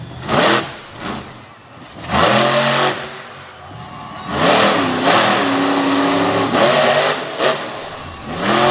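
A brightly lit truck revs hard on a dusty dirt track at a North vs South event in Front Royal, its engine surging and falling in repeated loud bursts, close and continuous.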